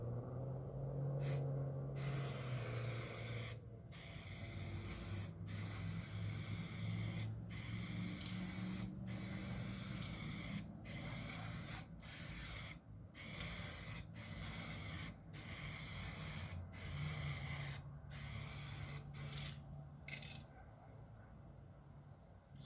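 POR-15 paint hissing from an aerosol spray can with a fan-pattern nozzle, sprayed in repeated bursts of steady broadband hiss broken by short pauses, close and loud, with faint low rumble underneath.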